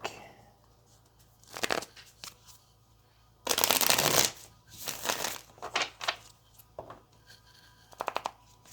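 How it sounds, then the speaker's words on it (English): Tarot cards are shuffled repeatedly, with crisp riffling and flicking bursts, one long loud riffle in the middle, close up with no talking. "Let's get this last shuffle."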